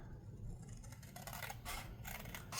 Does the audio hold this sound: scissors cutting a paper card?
yes